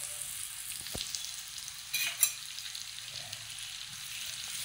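Amul butter sizzling in a hot pan for an Australian-style fry, a quiet, steady crackling hiss with a couple of brief sharper pops partway through.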